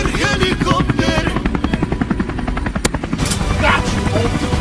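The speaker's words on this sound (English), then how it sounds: "Helicopter, helicopter." A helicopter in an over-the-top rescue scene, steady loud rotor thumping with fast rhythmic blade chop throughout, with voices talking over it.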